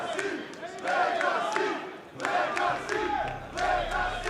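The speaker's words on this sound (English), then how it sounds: "Legacy getting a well-deserved cheer at this point of the game." A live crowd at a Counter-Strike esports quarter-final match cheering and chanting for the team Legacy, rising and falling in rhythmic waves of shouting.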